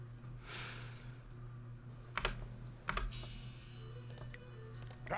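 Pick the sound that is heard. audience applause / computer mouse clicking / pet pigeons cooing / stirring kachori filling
computer mouse clicking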